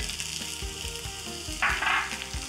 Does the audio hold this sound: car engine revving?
no